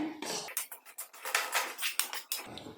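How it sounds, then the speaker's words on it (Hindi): A gond laddu mixture stirred and roasted in a pan over a low-to-medium flame, giving repeated scraping and clinking strokes of a utensil against the pan in an uneven rhythm, close and moderately loud, with no talk. "मैं इसे लगातार चलाते हुए भून रही हूँ"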